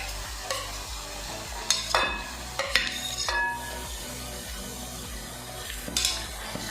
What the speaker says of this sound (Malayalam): നേരത്തെ നമ്മൾ റെഡിയാക്കി വെച്ച ഇഞ്ചി വെളുത്തുള്ളി പേസ്റ്റാണ് ഇട്ട് കൊടുക്കുന്നത്.